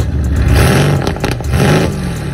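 A Mercedes-AMG GT with a custom exhaust system revs loudly and close by, giving several sharp rising and falling bursts in quick succession.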